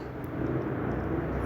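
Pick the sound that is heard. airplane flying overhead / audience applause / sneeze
airplane flying overhead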